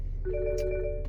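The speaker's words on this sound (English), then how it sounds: "So that little noise you hear in the background is just obviously someone's calling." An incoming phone call rings through the system of a BMW X5/X6 F15 F16 fitted with an aftermarket 12.3-inch Android touch-screen dash unit, a short electronic tone starting partway in over a low engine hum.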